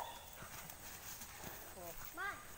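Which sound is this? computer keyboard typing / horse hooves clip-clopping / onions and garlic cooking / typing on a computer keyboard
horse hooves clip-clopping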